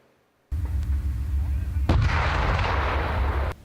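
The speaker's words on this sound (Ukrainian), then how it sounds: "Постріли з різних позицій, з місця та на ходу." Heavy, booming Leopard tank cannon fire with a deep rumbling roar that sustains for several seconds, followed by a sharp cutoff; loud and close.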